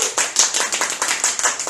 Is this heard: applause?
yes